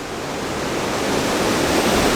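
A waterfall roars with wind blowing through huge openings in an abandoned mill, a steady, loud broadband rush with no breaks or voices.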